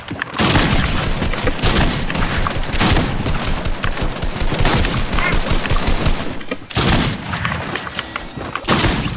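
Gunfire in a shooter video game: dense, loud rapid bursts of shots and booms roll on continuously, with a brief gap before the firing resumes.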